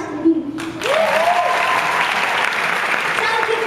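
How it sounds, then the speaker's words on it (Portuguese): Warm applause breaks out from an audience at a stage show in Recife, starting after a brief spoken phrase and continuing as steady, full clapping with voices rising over it. "Eu queria que vocês aplaudissem elas"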